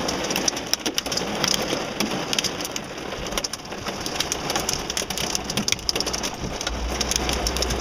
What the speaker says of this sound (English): it's hailing and the sun's shining, and it's pouring down rain